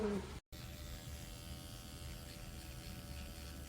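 A micro-needling skin treatment device buzzes in a steady, close, continuous drone after a brief voice at the very start.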